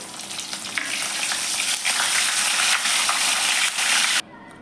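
Chillies fry until crisp in hot oil for soji chevdo namkeen, sizzling and crackling loudly with a bright, continuous hiss that cuts off abruptly near the end.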